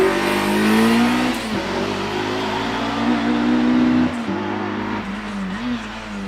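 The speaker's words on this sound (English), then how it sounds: "Edward in the first of our Class 3 runners, the 1400cc Micra, just going under the bridge and on up towards the Torres." A 1400cc Nissan Micra rally car climbs a hillclimb course under a bridge, its engine droning loud and steady with pitch rising and dipping through gear changes across the whole run.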